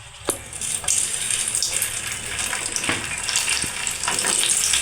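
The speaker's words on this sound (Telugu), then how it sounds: "స్టవ్ మీద 200 గ్రాములు ఆయిల్ పెట్టానండి. ఇది ఫ్రై చేసుకుంటున్నా." Flat beans (chikkudukaya) frying in about 200 grams of hot oil on a stove, a dense continuous sizzle with bubbling and occasional sharper crackles, close and steady throughout.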